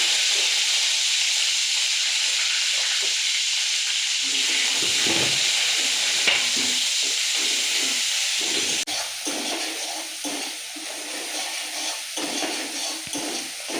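Onion and garlic paste dropped into hot oil already tempered with cumin seeds for a potato, pointed gourd and soya chunk curry, giving a loud continuous frying hiss that later turns into a bubbling, crackling sizzle.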